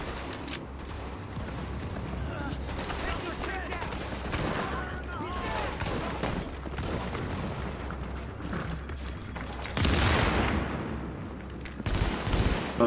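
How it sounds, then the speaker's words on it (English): Repeated heavy gunfire with explosive rounds in The Division at the Lexington Event Center, a steady barrage of booming shots and blasts throughout, with voices talking over the fight. "I'm hitting them with explosive rounds"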